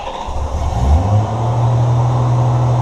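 A 1988 Honda Goldwing GL1500 motorcycle engine cranks and catches, then settles into a loud, steady, humming high idle on choke, close by, with no voices.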